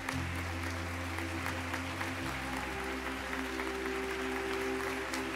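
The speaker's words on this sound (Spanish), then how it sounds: "Dale un fuerte aplauso al Señor." A congregation applauds during an online church service: a steady, fairly soft wash of clapping continues throughout over held low music chords.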